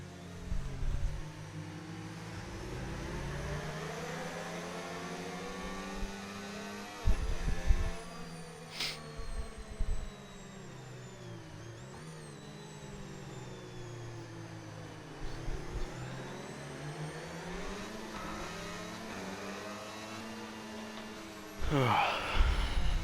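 A racing car engine in the F1 25 video game, at the Japanese Grand Prix, revs high and sustained with rising and falling pitch sweeps and a few short louder bursts throughout.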